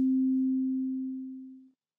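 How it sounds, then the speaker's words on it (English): A pure sine wave test tone at a steady low-mid pitch, heard alone, holding for over a second before fading smoothly to silence. "I'm adding this sine wave, but flipped to itself"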